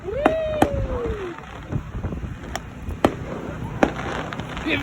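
Fireworks at a high school pep rally pop in a string of sharp, scattered bangs, several loud cracks over a few seconds, while a crowd whoops and cheers around them.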